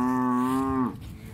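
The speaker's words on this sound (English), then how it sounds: "Somehow I wonder why they moo." A cow on a farm gives one long, loud, steady moo lasting most of a second before it breaks off, leaving quiet outdoor background.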